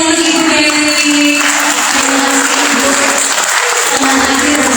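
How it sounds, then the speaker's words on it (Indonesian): Loud, dense audience applause fills a hall at a job fair talk show in Magelang, a continuous wash of many hands clapping at close range without pause. "kita berikan tepuk tangan yang meriah untuk Ibu Dewi."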